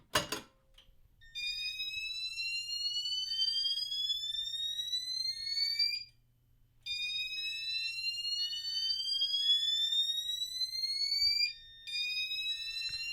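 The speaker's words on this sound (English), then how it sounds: "This is a System Sensor Spectral Alert Advanced Chime Strobe, and it's doing slow whoop" A System Sensor Spectral Alert Advanced chime strobe sounds a slow whoop: long rising electronic sweeps repeat with brief pauses between them, loud and steady against a faint hum.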